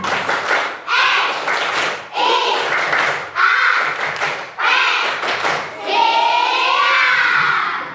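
Schoolchildren in a classroom clap loudly in rhythmic class-cheer bursts led by a teacher, several clapping patterns separated by short pauses, with children's voices mixed in.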